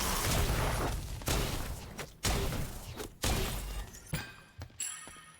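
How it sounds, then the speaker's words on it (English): Danzaburou's auto attacks in the video game Smite land as sharp, shattering booms, each blast followed by a decaying crackle, with five or six hits in an uneven rhythm and no talk over them. "that auto attack sound is way more bearable"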